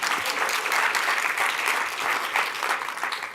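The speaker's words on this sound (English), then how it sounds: "let's give one more quick round of applause for everybody that contributed." Sustained audience applause at the MIT $100K startup pitch competition, a dense, steady wash of many hands clapping in a hall, loud and continuous throughout without talk.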